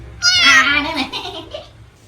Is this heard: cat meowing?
yes